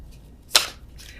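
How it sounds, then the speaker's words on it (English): A single quick riffle of tarot cards being shuffled, a brief crisp burst close up in an otherwise quiet room. "I cannot shuffle these cards, so if you're watching, you can laugh."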